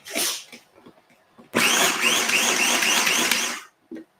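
A short burst of sharp noise, then a food processor blitzing almonds, whirring loudly for about two seconds before cutting off, followed by a brief thud.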